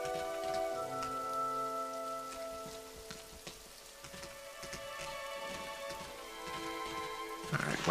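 Heavy rain pours steadily in the video game Rain, a dense continuous hiss of a downpour with layered tonal music on top, no speech.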